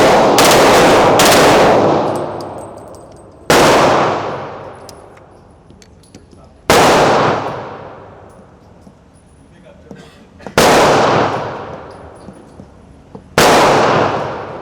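Rapid bursts of pistol fire from a Smith & Wesson M&P 2.0 Pro Series in .40 S&W fitted with a forced reset trigger: five loud strings of shots, each ringing out and decaying before the next burst.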